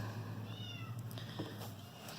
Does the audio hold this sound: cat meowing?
yes